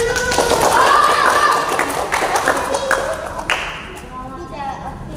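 Schoolchildren in a simulated classroom lesson clap briefly for a correct answer, the short patter of hands mixed with the children's voices and excited cheers.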